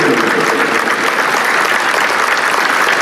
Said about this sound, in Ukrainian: Стадіон аплодує чоловікові стоячи.